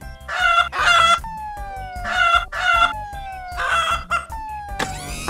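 A cartoon fire truck's siren-like electronic call breaking into repeated hen-like clucks and crows, loud and close, in several bursts with falling whistle tones between them.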